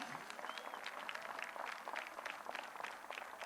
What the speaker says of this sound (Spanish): Vamos a aplaudirle al Señor.